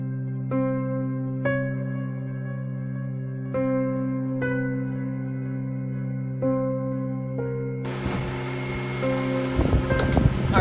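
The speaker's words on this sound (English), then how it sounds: "I've got the fan going on. It's loud" A loud fan runs beside a small twig stove, giving a steady, droning, tonal hum with periodic soft knocks, and it gives way to a rough, rushing noise in the last few seconds.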